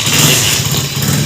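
A motorcycle engine runs steadily at close range while the bike is wheeled out, a low continuous mechanical hum with no voices over it.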